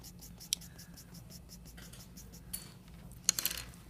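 Charcoal pencil shading across paper gives a faint, close, continuous scratchy rasp, with a few sharper ticks as strokes start and end.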